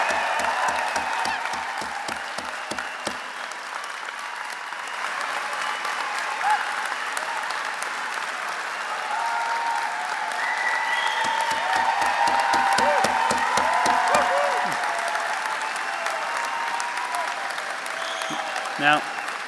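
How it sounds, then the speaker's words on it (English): A convocation audience at Trent University Durham Greater Toronto Area applauds the graduates with sustained, full clapping, scattered cheers and whoops, and a voice or low tones cutting through at the start and again midway. "Could I ask for a wonderful round of applause for our graduates"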